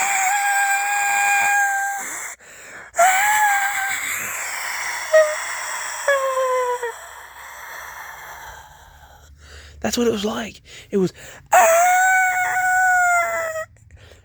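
A voice imitates a high-pitched but low scream like something dying, with several loud, drawn-out wailing cries close by and short bursts of speech between them.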